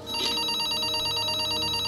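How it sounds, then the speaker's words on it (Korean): A telephone rings loudly and continuously, a bright steady electronic trill close by with no voices over it. "그때 수사팀에 전화가 한 통이 걸려와요."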